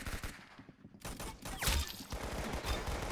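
Gunfire in the Roblox game Arsenal, a dense burst of rapid shots and cracks, loud and near, continuing through with no one talking.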